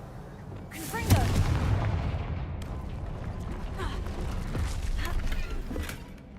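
Spell blasts from Confringo in the Hogwarts Legacy video game, a sharp crack near the one-second mark followed by rumbling, crackling bursts and a few more impacts, with mechanical game ambience throughout.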